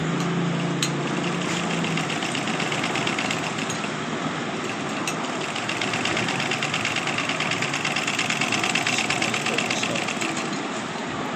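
A sewing machine stitching after adjustment of its needle timing and shuttle for skipped stitches, a loud, close, continuous rhythmic mechanical whir that runs unbroken throughout.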